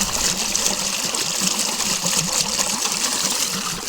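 Irrigation water runs steadily into a field channel, a continuous loud rushing and gurgling wash with no pauses.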